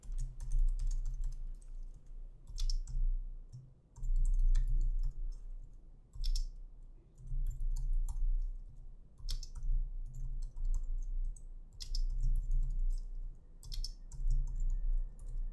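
Steady typing on a computer keyboard, with quick bursts of key clicks separated by short pauses, close and clear for about fifteen seconds.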